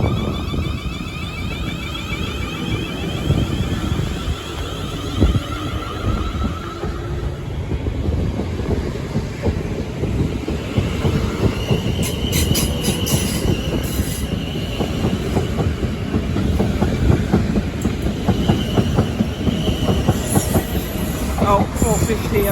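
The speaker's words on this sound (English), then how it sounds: "Let's just focus on the 450 departing Clapham Junction." A Class 450 electric train pulls out of Clapham Junction, its steady rumble and clicking wheels joined by high squeals and a faint whine, heard from nearby on the platform and lasting the whole time.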